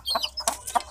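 A young village chicken, separated from its mother hen, lets out a quick series of three or four short, high clucks and chirps, close and clear within a single second.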